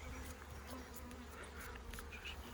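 Honey bees buzz in a dense, continuous drone as they are swept off frames during a honey harvest in the field, with faint scattered rustles on top.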